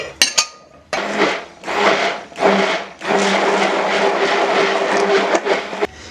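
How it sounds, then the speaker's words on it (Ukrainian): An immersion blender mixing chocolate cake mousse whirs in several short bursts, then runs steadily for a few seconds before stopping, close and fairly loud. "збиваю блендером до однорідності."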